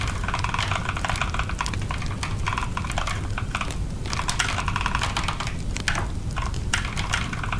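Rapid typing on a computer keyboard while coding, a dense, continuous clatter of close keystrokes with no pauses and no voices.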